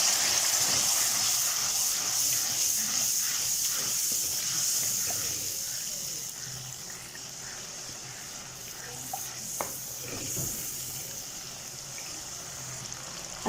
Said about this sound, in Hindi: थोड़ा थोड़ा पानी लगा के इसको अच्छे से भून लेंगे।